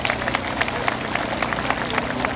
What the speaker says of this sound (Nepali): सबै मण्डली पास्टरहरूलाई पनि हामी ताली बजाएर धन्यवाद दिउँ।